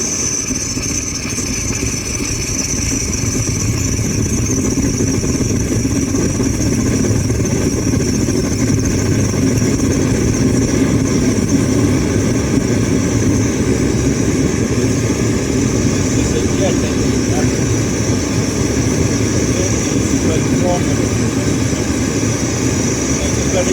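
An MSR XGK EX or MSR Dragonfly liquid-fuel camping stove burner roars loudly and steadily, a broad continuous rushing hiss that holds level throughout without a break.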